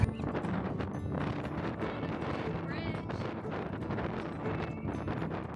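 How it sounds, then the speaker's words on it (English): Strong wind roars and buffets the microphone in a steady, rumbling gust throughout, at Alcatraz. "It's super windy."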